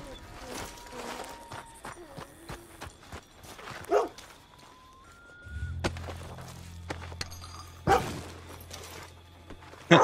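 A dog in the Red Dead Redemption 2 video game gives a few short barks amid game ambience, hoofbeats and footsteps, with bursts spaced through the scene.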